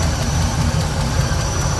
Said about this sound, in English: Just barely hear that exhaust leak on this side.